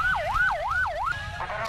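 An ambulance siren wails at a student protest, rising and falling in three quick cycles, loud and close, then breaking into a flatter tone with some background noise.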